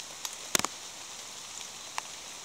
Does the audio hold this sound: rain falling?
yes